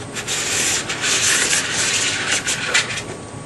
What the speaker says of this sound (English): hold it up to the base of the snowboard like this and just scrape it like so